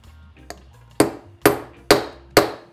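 Four sharp metallic hammer blows drive a seal into a Triumph 650 motorcycle engine, evenly spaced and close, following a couple of lighter taps.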